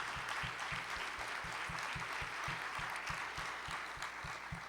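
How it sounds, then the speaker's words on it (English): Applause from the audience at a creative placemaking summit, a faint, steady wash of clapping heard from a distance and lasting several seconds, with no talking over it. "But can we give them all a real nice round of applause too?"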